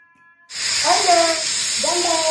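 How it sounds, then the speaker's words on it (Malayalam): A pressure cooker lets off a steady, loud hiss of steam that starts abruptly after a brief quiet moment and runs on without pause, with faint voice-like tones sounding over it. "കുക്കർ വെച്ചാലോ"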